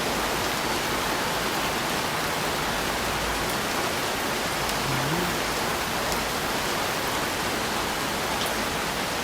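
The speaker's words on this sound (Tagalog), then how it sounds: "Grabe lakas ng ulan." Heavy rain pours down over a small home garden, a loud, even, hissing downpour that stays unbroken throughout with no talking.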